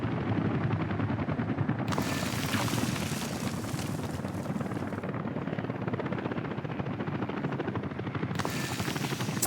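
A helicopter in the city-building game Workers & Resources thrums with a steady, continuous rotor chop, loud and close, with rapid rattling pulses and no talk over it.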